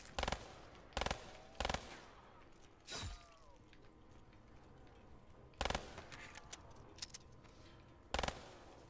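Gunfire in the Black Ops 3 Zombies video game: loud sharp single shots, spaced irregularly with several quick pairs, over a quieter background of game noises and clinks.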